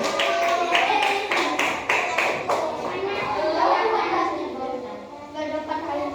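Third-grade pupils in a classroom clapping together after winning a point, a run of fast rhythmic claps followed by lively children's voices and chatter.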